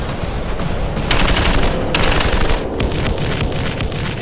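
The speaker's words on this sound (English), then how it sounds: "The Dushka 50 caliber heavy machine gun unleashes its devastating power once more." A Dushka 50 caliber heavy machine gun fires loud, rapid sustained bursts in a combat ambush, the heavy booming reports running together almost without pause.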